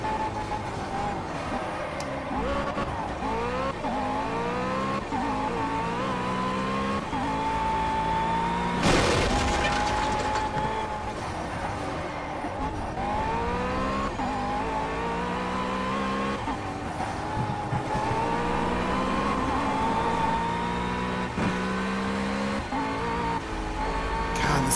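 Race car engines whine and rise in pitch as cars approach in a sim racing video game played in a motion simulator, loud and continuous, with a brief harsh burst midway.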